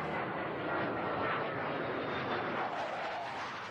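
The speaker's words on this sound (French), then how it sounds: "un avion survole la zone toutes les minutes" A military airplane passing over a rural grazing area, its engine a broad continuous roar that stays loud and even across the whole stretch, with no voices heard.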